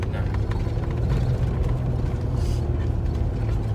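A petrol automatic 4WD crawls slowly uphill on an off-road track at low revs, its engine a steady, close, low drone with a voice briefly audible over it.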